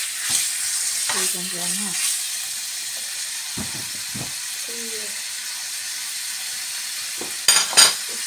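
Beef stir-fried in a pan sizzles with a steady close hiss, broken by the scrape of stirring and a louder burst near the end, while a person talks over it.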